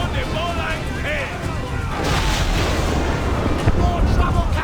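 Cannon broadsides from a pirate ship battle in Assassin's Creed IV Black Flag, loud continuous booming and crashing rumble that swells midway, with shouted voices over the gunfire.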